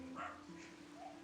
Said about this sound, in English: Can you guys hear my dog barking in the background?